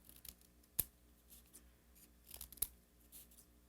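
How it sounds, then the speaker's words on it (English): Two sharp, close snips of scissors cutting through folded paper strips for a lion craft, set apart by a quiet pause. "And then cut your strips."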